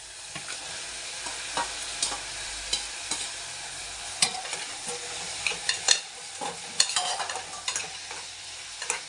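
Pumpkin pieces frying with spices and salt in a pan for a sour gojju, a continuous soft sizzle under frequent scraping stirs and spoon knocks, close up with no talking.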